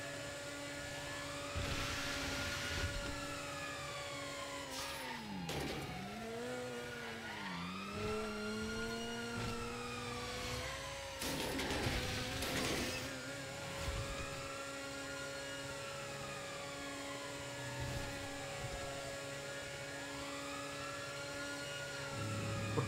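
Helicopters in a roleplay police pursuit video game whir steadily, with engine tones sweeping up and down as vehicles rev and pass, continuous throughout without talk.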